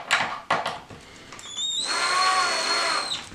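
A cordless power drill drives a screw through a TV bracket into wood, with short bursts of whirring followed by a sustained, steady high-pitched whine as the screw tightens, close and fairly loud.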